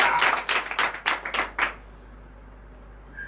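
A church congregation at a morning evangelical prayer service in Cotonou breaks into brisk, loud applause that lasts about a second and a half before cutting off into quiet room tone.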